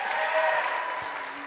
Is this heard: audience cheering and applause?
yes